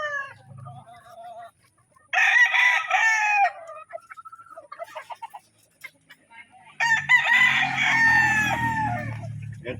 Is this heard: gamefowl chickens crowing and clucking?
yes